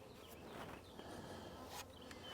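Faint, steady buzzing of many bees around a hive, a soft droning hum with occasional louder passes of individual insects close by.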